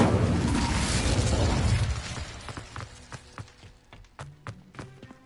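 A fire spell, Incendio, cast in the video game Hogwarts Legacy: a loud crackling, shattering burst of flame fills the first two seconds, then dies away into scattered sharp pops and footstep-like clicks.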